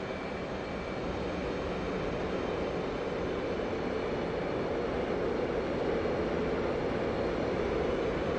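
Steady, loud jet engine roar from an F/A-18C Hornet held at military power, full throttle short of afterburner, in DCS World; a broad, unbroken rushing drone that holds constant throughout with no talk.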